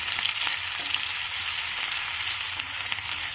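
Onions frying in a pan give a steady, dense sizzle with fine crackle throughout, close and even in level with no talking.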